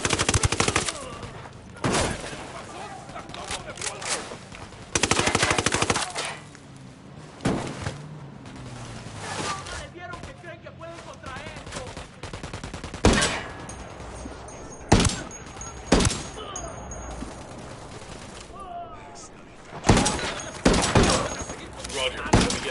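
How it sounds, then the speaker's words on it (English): Gunfire in Ghost Recon Wildlands: irregular bursts and single loud shots, some sharp and close, scattered over about twenty seconds with quieter gaps between, while people talk through the fight. "I'm shooting these fuckers"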